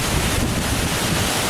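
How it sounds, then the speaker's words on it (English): Strong winter southerly buster wind roaring steadily against the microphone, a loud, dense rush with no letup. "Just to give you some idea of the wind we're experiencing at the moment."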